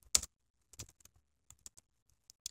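Short bursts of keyboard typing in a quiet room: a few scattered clicks and key taps with pauses between them, close and fairly soft.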